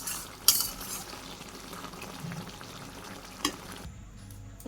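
Eggplant curry with sugar, ground cumin and garam masala being mixed in a pan in a Bangladeshi village kitchen: a faint, low sizzle with light stirring scrapes and a couple of sharp utensil knocks, ending in near quiet.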